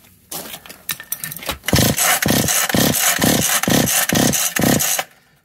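Starter cord on a McCulloch Eager Beaver 2.0 chainsaw being yanked repeatedly: after a few scuffing handling noises, about seven loud, evenly spaced rasping pulls follow in steady rhythm, with no engine catching.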